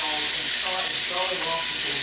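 Onion sizzling and frying in hot oil in a pan for a chicken and veggie fried rice stir-fry, a steady close crackle with some stirring and no talk.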